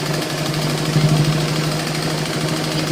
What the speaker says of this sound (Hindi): इसके ऊपर मैं सिलाई लगा रही हूँ कमर पट्टी पर